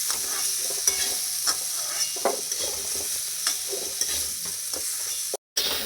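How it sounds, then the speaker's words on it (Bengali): Potatoes fry in a pan, giving a steady hiss of sizzling oil broken by occasional stirring scrapes and clinks, with a brief cutout near the end. "আলুটা আমার ভাজা হয়ে গেছে"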